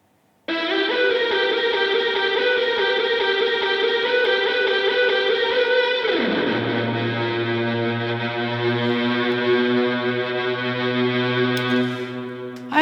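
A sustained synthetic string chord in Logic Pro X holds steady, then its pitch bends sharply downward and settles into a lower, held tone before cutting off.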